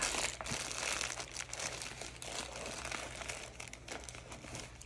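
Plastic packaging around a Knitters Pride Mindful knitting needle set crinkles steadily and close up, a busy continuous rustle with no one talking.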